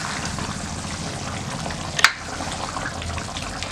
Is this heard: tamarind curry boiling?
yes